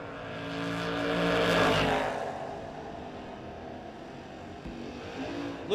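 Drag racing cars at a No-Box 660 shootout roar down the racetrack, with engine noise swelling loudly as they pass and then fading off into the distance, followed by quieter distant engine sound.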